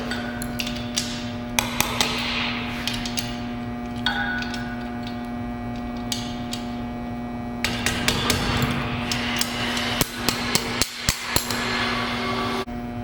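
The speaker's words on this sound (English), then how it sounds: "Here's one of the places I like to use the plastic hammer, even though I don't use the plastic part." Metal hammer end of a plastic hammer striking parts of an Ampco CB+ sanitary pump assembly; sharp, close knocks come singly and in quick bursts over a steady mechanical hum.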